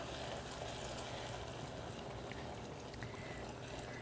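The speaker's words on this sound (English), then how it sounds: "I'm going to add in my butter. And it's really going to go here" Butter dropped into hot caramel bubbles and spatters in the pan, a steady loud fizzing sizzle that holds evenly throughout with no pauses.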